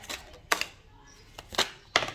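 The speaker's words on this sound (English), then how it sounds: "I can never shuffle the way people usually shuffle." A deck of tarot cards is shuffled by hand, giving quiet bursts of crisp riffling clicks that come in a loose, uneven rhythm with short pauses between them.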